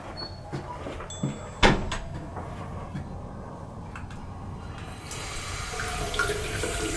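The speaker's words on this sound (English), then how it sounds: "That was obviously running water." Water running from a tap, a steady hiss with a sharp clunk near the start and a brighter, stronger flow toward the end, heard without any talking.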